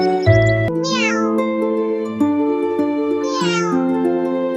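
Cartoon mother cat and kitten meow in two stylized, rising-then-falling calls over a steady background music bed, each meow loud and close.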